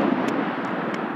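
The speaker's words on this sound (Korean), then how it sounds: "큰 소리를 내며 날아온 헬기 한 대가 산 너머로 사라집니다" A helicopter roars steadily overhead as a US Apache flies in for missile-firing training near a range, its broad engine and rotor noise filling the scene with brief sharp ticks on top.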